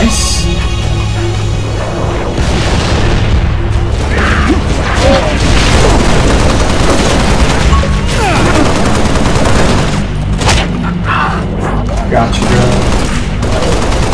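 Gunfire in the video game Halo: Reach during a Heroic campaign mission: loud, continuous volleys of shots with heavy booms and mechanical clatter, sustained throughout, while a player speaks briefly over the din.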